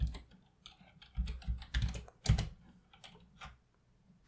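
Computer keyboard and mouse clicking at a podcast desk, a close, irregular patter of key taps and clicks with a few louder thumps in the middle and no talk.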